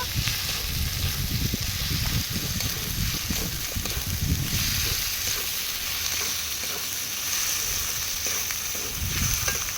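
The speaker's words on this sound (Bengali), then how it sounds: "টমেটো কুচি, জিরে বাটা, সব মশলা একটু ভালো করে কষিয়ে নেব" Tomato, cumin paste and spices frying in a pan, a steady close sizzle with stirring scrapes and rustles running throughout, no voices.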